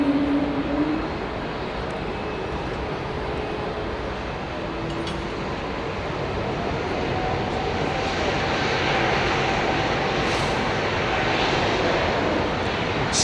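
An Embraer E2 airliner taking off at Heathrow Airport in the evening, its engine roar a broad, steady rumble that swells gradually as it builds power.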